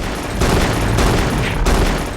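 Gunfire in the video game Frater, fired at close range in castle dungeons: a dense, loud run of overlapping shots with three sharper bursts standing out over steady background noise, no voices.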